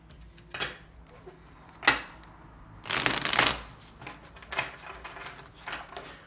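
Oracle cards are shuffled by hand in short bursts: soft riffles and taps, with one longer, louder riffle in the middle.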